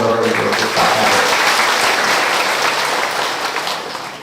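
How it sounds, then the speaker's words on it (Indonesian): An audience applauds the village head with a loud, dense round of clapping that holds steady and then tapers off over about four seconds, with no voice rising above it. "Kita kasih tepuk tangan untuk Pak Kades."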